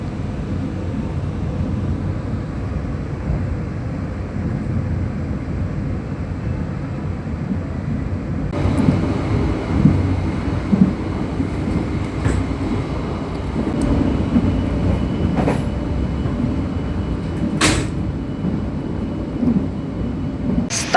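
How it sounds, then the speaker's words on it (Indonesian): The Pasundan passenger train pulls into Bojong station in Indonesia with a long low rumble that grows louder midway, marked by sharp squeals and clanks. "Kereta api Pasundan berhenti di stasiun Bojong"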